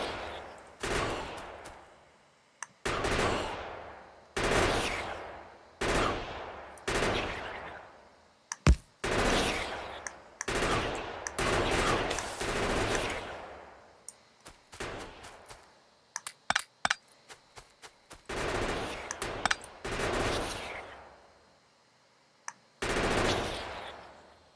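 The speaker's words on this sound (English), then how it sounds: "my gun turrets are still capable" Automated gun turrets in the factory-building game Factorio fire in repeated bursts, rapid rattling volleys separated by short pauses, some long and some clipped, steady and fairly loud with no talking over them.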